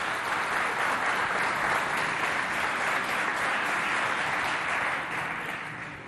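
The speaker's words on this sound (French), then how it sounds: "Applaudissez bien fort pour vous." A school competition audience applauds loudly in a sustained, dense wash of clapping that holds steady before easing slightly at the end.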